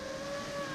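A light aircraft's engine throttles up during a low pass over an airstrip, a steady loud drone with strong sustained tones.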